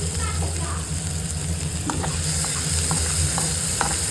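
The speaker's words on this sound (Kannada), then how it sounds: "ಇದನ್ನು ಫ್ರೈ ಮಾಡೋಣ ಚೆನ್ನಾಗಿ" Goat intestine frying in a pan with salt, with a steady hiss of oil under intermittent spatula scrapes, and a low mechanical hum underneath.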